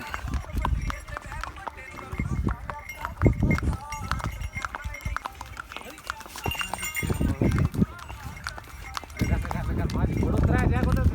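Hooves clip-clop steadily during a horse ride in Gulmarg, Kashmir, the rhythmic clopping running under frequent nearby talk and background noise throughout.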